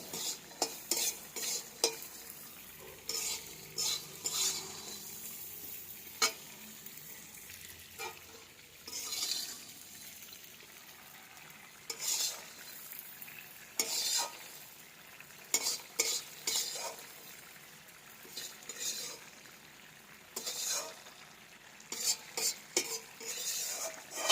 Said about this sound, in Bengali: ওই যে নারকলটা ভাজা হচ্ছে